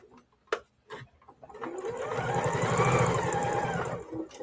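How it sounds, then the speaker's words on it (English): A sewing machine back stitches a seam to hold down a corner, starting with a few short taps and then settling into a steady, close mechanical whir of rapid stitching. "So now I'm just going to back stitch to the corner to hold that seam down"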